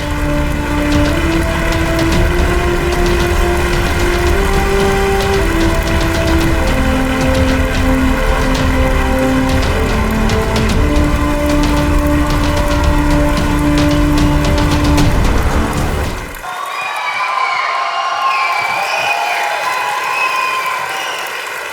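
Loud, dense applause from a crowd at the SIIMA awards ceremony fills the hall alongside music and then drops sharply toward the end, giving way to a quieter background.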